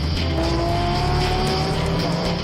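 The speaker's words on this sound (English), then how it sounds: "Today in Cheshire, England, 28 drivers are racing at the Oulton Park circuit." GT race cars with stripped interiors and modified engines race around the Oulton Park circuit in Cheshire, England, a steady, loud engine roar from the pack, heard close without talk.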